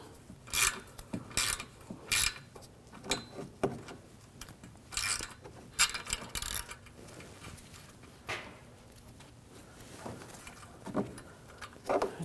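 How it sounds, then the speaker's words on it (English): Wrench and socket working two transmission bracket nuts loose on a 2007-2013 BMW 328i, giving a series of close metallic clicks, rasps and scrapes in irregular bursts. "Where this bracket is at the transmission, we're going to take these two nuts off"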